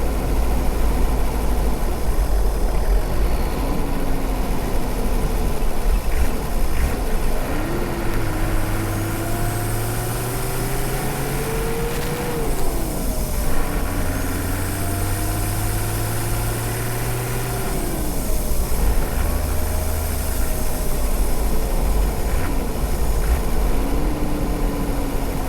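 A car engine idles, heard from inside the engine bay, with a loud, steady low rumble and mechanical hum that drifts slightly up and down in pitch throughout, and no voices.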